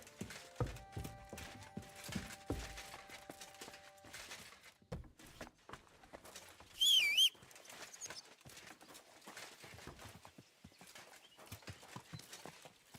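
Horse hooves clip-clop in steady rhythm in Kingdom Come Deliverance 2, moderately close and fairly quiet, with a brief bird call and a short tonal chime along the way.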